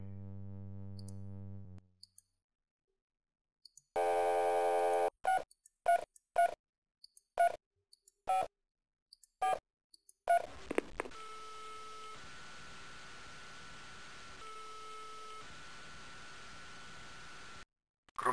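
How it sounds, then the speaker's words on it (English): Telephone dialing in the computer game Spycraft: The Great Game: a steady dial tone, then a quick run of separate DTMF key beeps, followed by a long ringing tone with brief gaps, all clear and close with no talk. "Let's give him a call."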